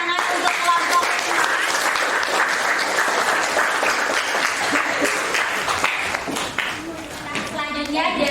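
Applause from a classroom audience of teachers for a student group that has just finished presenting, steady broadband clapping running throughout with voices mixed in.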